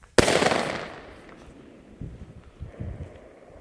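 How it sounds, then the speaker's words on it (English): A single loud Chinese firecracker or air bomb bursts outdoors with a sharp crack, then a crackling, hissing tail fades away over windy background noise and faint shuffling steps. "That's just a Chinese firecracker or whatever it's called, or an air bomb."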